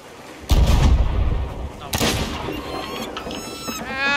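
Ship cannons in Sea of Thieves fire two heavy booming shots a second and a half apart, each with a rumbling tail, followed by softer distant blasts and splashes, with players talking over it.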